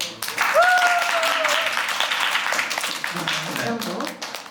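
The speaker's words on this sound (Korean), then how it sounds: "제가 뽑은 봄날 같은 당신의 얼굴이 좋으신 분은 박수 쳐주세요." Audience clapping at a live Korean fan event in Mokpo, a moderate patter of hands running under a voice and some vocal noise, easing off toward the end.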